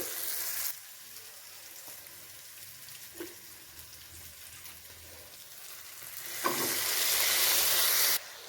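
Potatoes tipped into a pan of softened onions and tomatoes set off a loud sizzle that fades to a low fry and quiet stirring, then swells again into a louder sizzle near the end.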